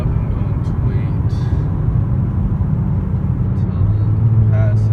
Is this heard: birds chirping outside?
no